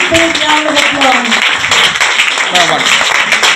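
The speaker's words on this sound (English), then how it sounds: "Please give us a very big round of applause." An audience claps at a flower-arrangement exhibition event in Hyderabad, the applause uneven and moderately loud, mixed with voices talking over it throughout.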